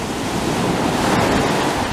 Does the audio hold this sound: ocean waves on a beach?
yes